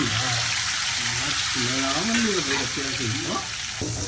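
Mustard seeds, fenugreek, cumin, crushed garlic, turmeric and red chili sizzle in hot oil as a tempering for drumstick kadhi, a steady close crackling hiss running under a voice throughout.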